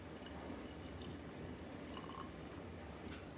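Earl Grey tea concentrate being poured over an iced matcha latte, a soft steady liquid trickle with faint drips, close and quiet against a low background hiss, no talking.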